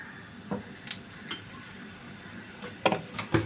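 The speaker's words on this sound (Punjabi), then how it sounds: "ਤੇਲ ਆਪਣਾ ਗਰਮ ਹੋ ਗਿਆ ਇਹਦੇ ਵਿੱਚ ਅੱਧਾ ਚਮਚਾ ਜੀਰਾ ਪਾ ਦਾਂਗੇ" Half a spoonful of cumin seeds sizzles in hot oil in a pan, a steady hiss broken by a few sharp clinks and scrapes of a spoon stirring close by.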